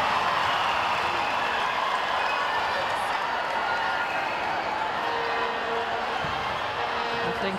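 Broad, continuous crowd noise at a Botswana v Malaysia netball match, a steady wash of applause and cheering from spectators that holds at an even level while a commentator talks over it.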